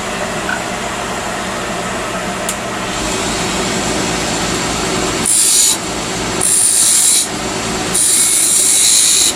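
A wood lathe turns a chess king while a skew chisel cuts its base, a continuous motor hum broken by three loud bursts of bright, rasping cutting noise up close.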